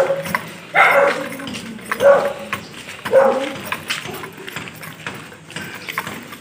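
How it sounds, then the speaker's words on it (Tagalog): Dogs at a kennel or animal facility bark in several loud, separate bursts close by, with people talking in between. "Nakakatakot yung mga aso dito."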